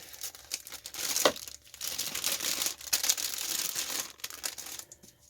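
A plastic package of small 3D butterflies is cut and torn open, with crinkling and ripping in bursts over several seconds, close and fairly loud.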